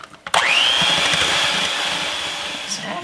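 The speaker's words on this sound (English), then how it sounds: "So I'm going to use my blender now just to whip this up nice, and I'll gradually add in the milk." An electric hand blender whips eggs, butter, sugar and milk for rhubarb muffin batter, a steady whirring hum that starts abruptly and runs on loudly and evenly, close to the listener.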